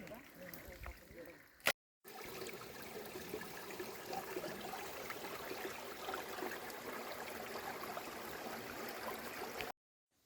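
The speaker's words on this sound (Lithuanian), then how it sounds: "upeliuks" A small forest stream trickles and babbles steadily among ferns, a continuous soft wash of water at moderate distance, briefly cut near the start and end, with faint talk early on.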